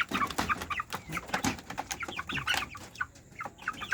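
Dong Tao chickens in a backyard flock giving a run of close, busy clucks and short calls, one after another with no pause.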